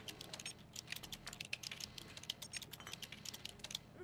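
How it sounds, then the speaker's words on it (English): A cat walks across a computer keyboard in the video game Stray, producing a rapid, uneven patter of soft key clicks, close and fairly quiet, with no talking. "I got an achievement for typing on the keyboard"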